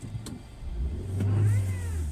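A car engine whines and revs while the vehicle drives through snow after dipping down a slope, the tone rising into a sustained, fairly loud drone near the end with faint thumps from the road.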